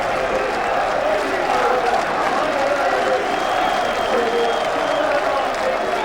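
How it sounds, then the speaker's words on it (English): A big football crowd at Bootham Crescent, York, during a Division 3 match fills the air with steady, dense applause and crowd noise, continuous and fairly loud, while a commentator talks over it. "There's a big crowd at Bootham Crescent"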